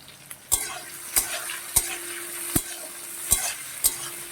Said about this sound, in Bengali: পেঁয়াজগুলোকে আমি লাল লাল করে ভেজে নেবো